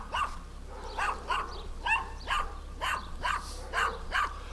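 A small dog yaps repeatedly near a farm field, about nine sharp, high barks at an even, insistent pace, close by and alone over a low background hum.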